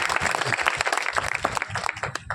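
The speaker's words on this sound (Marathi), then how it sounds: "एकदा जोरदार त्यांच्यासाठी सुद्धा टाळी वाजवायचे" Loud audience applause at a devotional Marathi discourse, a dense burst of clapping that fills the short moment, with a voice faintly heard underneath.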